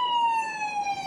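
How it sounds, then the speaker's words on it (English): An ambulance (EMS) siren on a Dallas street holds a steady wailing tone with rich harmonics, loud and continuous throughout, alone without talk. "It is the ambulance,"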